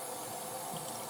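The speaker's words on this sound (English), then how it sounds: "If we look at this water here" Water flowing steadily in a low, even wash, faint and continuous with no talk.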